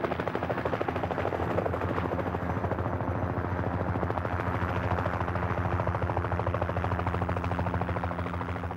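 Helicopter carrying surveyors over rugged, remote Nevada country. Its rotor gives off a loud, steady rapid chopping with a heavy engine drone for the whole stretch, and no voices are heard.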